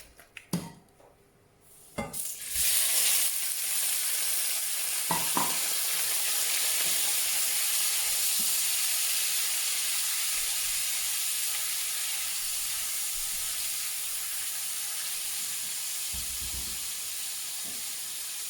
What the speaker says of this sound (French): on va donc pouvoir mettre nos crevettes et les faire revenir dans notre huile d'olive bien chaude.